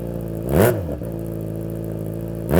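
A Yamaha XJ6 motorcycle on its stock exhaust idles steadily close by, then is blipped in two short revs that rise and fall, the second starting at the very end.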